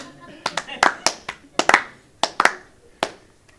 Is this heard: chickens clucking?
no